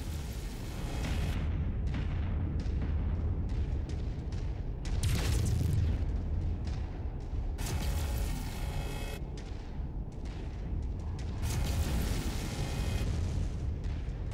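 Mech weapons firing and explosions in the video game MechWarrior 5, with repeated booming blasts and bursts of fire, some sharp bright impacts among rumbling detonations, loud and continuous with no talking.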